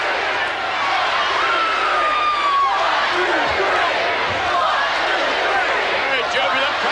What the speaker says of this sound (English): Very jubilant crowd here in Richmond, Virginia tonight for Monday Night Raw.